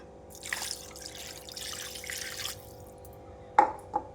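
Water splashes and trickles in a few bursts as it is poured over fish, then two short drips land near the end, over a low steady hum.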